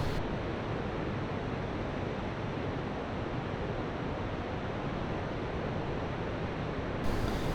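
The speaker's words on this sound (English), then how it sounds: "It pours over the granite slab in such a force that you think this is the waterfall" Rancheria Creek whitewater rushing with great force over a granite slab, a loud, steady broadband roar heard up close and continuous with no talking.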